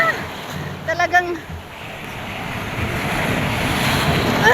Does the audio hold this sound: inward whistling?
no